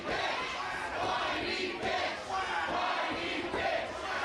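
A wrestling crowd in Worcester roars and jeers in a dense, continuous wall of shouting voices, loud and surging in waves, with no single voice clear above it.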